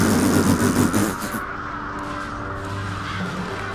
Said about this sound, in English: Raven panic.